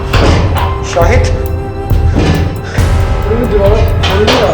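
A door slams hard somewhere behind in a quiet building at night, heavy thuds standing out over constant background noise and ongoing talk.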